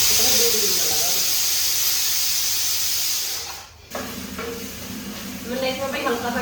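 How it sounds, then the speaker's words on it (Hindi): Cumin seeds roast in ghee with a steady, close hiss and sizzle that runs throughout, briefly dipping mid-way. A voice talks faintly underneath. "जीरा भून लिया।"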